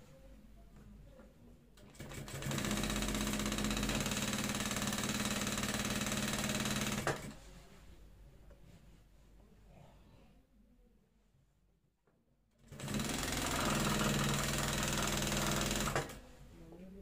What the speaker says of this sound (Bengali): এভাবে একটা খুব ভালোভাবে সেলাই মারবেন